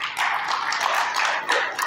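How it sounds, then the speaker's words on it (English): A congregation claps for itself at a morning church service, a steady, fairly loud patter of many hands that runs continuously without a break. "I want you to give yourself a hand"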